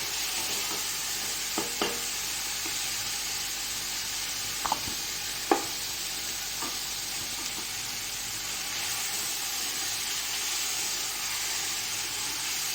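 Beef paya simmers in a pot while a spoon stirs it, producing a soft continuous bubbling hiss broken by a handful of scattered spoon clicks and taps against the pot.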